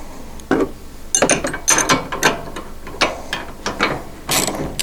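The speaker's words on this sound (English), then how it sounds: "Our wrench, and we'll tighten this up." A ratchet with a 17mm socket tightens a bolt while fitting doors on a Honda Pioneer 1000, close and loud, in several uneven bursts of sharp ratcheting clicks with short pauses between strokes.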